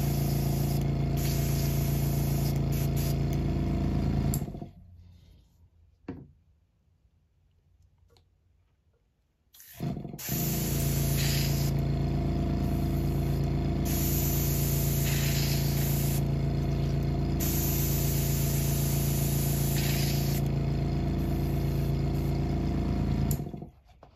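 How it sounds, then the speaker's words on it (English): An airbrush sprays continuously with a loud steady hiss while being cleaned out, cutting off for about five seconds midway before resuming, then stopping near the end. "Clean the airbrush out."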